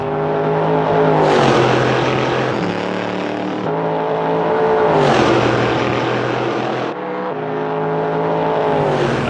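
Thunderous American V8 of the Chem-Flummi Camaro GT3 race car in Assetto Corsa, loud and close, revving up and shifting through gears in repeated rising pulls with short drops between them.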